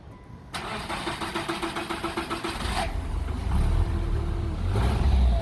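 A Subaru Outback engine cranks with a rapid rhythmic whirr, catches, and settles into a loud close idle that swells into revving, with no talking over it.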